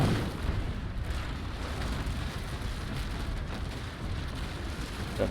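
Warship cannon fire in Naval Action rolls as a continuous low rumble of booming shots and distant explosions, heavy and sustained with no clear gaps and no voices.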